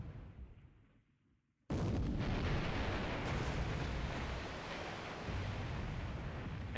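Naval main gun fire in the wargame War in the Pacific, with the battleship Prince of Wales engaging Nagato: a quiet lead-in, then a sudden heavy boom that rolls on as a loud, sustained rumbling blast.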